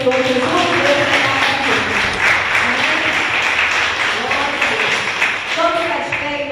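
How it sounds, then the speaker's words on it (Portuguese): A church congregation applauds together in a sustained burst of loud, dense clapping during a Sunday morning worship service, with voices calling out beneath it. "Vamos aplaudir o Senhor Jesus."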